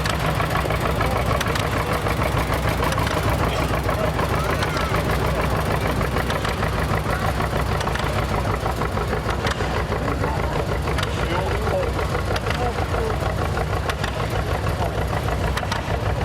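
An antique John Deere tractor engine at a county antique power tractor show parade, a steady loud idling chug with a rhythmic knocking beat running unbroken, a voice faintly mixed in.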